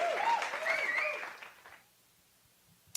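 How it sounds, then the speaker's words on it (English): A crowd cheers and applauds loudly with whoops for a moment, then the noise drops away abruptly to near silence, ending with a single sharp click. "Crowd will not stop cheering."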